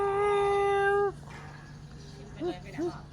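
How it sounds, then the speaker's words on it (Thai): A cat meows in one long drawn-out cry, then two short, fainter mews follow after a pause, recorded close against a low steady background hum. "แมวแมวแมวหน้าดำหน้าลาย สีสันสวยงามนะลูก"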